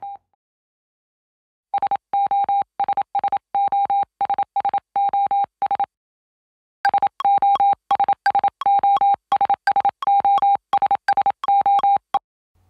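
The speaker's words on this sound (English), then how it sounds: "listen to a Morse code transmitter sound" A Morse code transmitter beeps a clear steady tone in rhythmic short and long pulses, two runs split by a brief pause, loud and alone.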